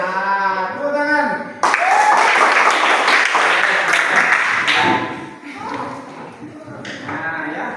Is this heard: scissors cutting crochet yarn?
no